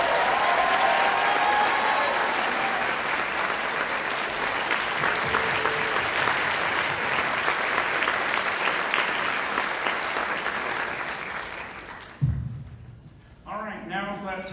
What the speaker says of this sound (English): Let's give Dr. Kindy one more round of applause.